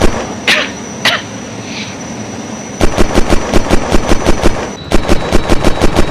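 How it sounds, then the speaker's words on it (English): Rapid bursts of automatic gunfire in the video game Unturned crack in quick rhythmic volleys after a few isolated shots, loud and close, with no one speaking. "I hear the gunshot."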